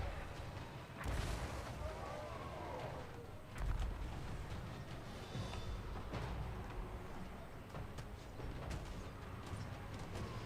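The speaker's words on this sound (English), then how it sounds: "They're shelling my handgunners." Artillery shells a unit of handgunners in the Total War Warhammer 3 video game, booming in repeated distant blasts over a continuous dense rumble of battle noise, with a couple of louder impacts standing out.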